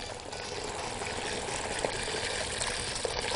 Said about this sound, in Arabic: دول 15 كوبايه ميه